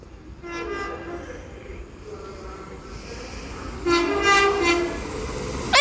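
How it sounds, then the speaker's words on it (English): An Avanti West Coast Class 807 train, unit 807 004, speeds through Stafford station on the West Coast Main Line, its horn sounding in loud tonal bursts over steady rumbling rail noise, with a sharp squeal near the end. "That speeds through Stafford with the 11:02 Avanti West Coast service to Liverpool"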